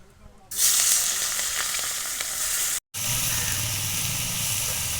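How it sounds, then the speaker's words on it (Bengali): Cleaned shrimp coated in salt and turmeric fry in hot oil, a loud, continuous close-up sizzle that bursts in after a quiet start and drops out briefly before resuming. "চিংড়ি মাছগুলো ভেজে নিচ্ছি।"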